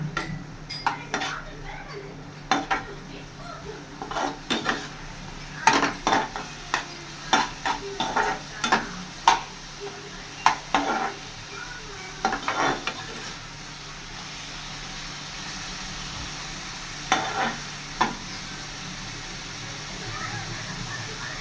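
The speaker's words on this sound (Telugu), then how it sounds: "ఇంకా కొంచెం బాగా ఫ్రై అవ్వనివ్వండి" Masala with coriander powder and garam masala fries in oil for mint carrot rice. Sharp, irregular clinks of a spatula against the pan sit over a low, steady sizzle, and a voice speaks intermittently.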